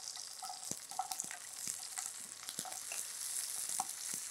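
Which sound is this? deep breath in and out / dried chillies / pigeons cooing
dried chillies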